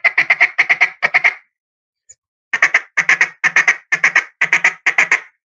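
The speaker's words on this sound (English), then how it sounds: "you listen to the quack on this. Hear that rasp that has?" Series of raspy quacks from a duck call in rhythmic bursts of four or five, a short pause, then more rapid quacking runs, loud and close.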